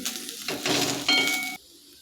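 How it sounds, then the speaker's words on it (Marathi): Chopped onion and dry grated coconut sautéing in a pan, a close, bright sizzle with stirring scrapes and a metallic ring, then cutting off abruptly. "सुक्क किसलेलं खोबरं टाकत आहे आता हे आपण एक मिनिट जर परतून घेऊया"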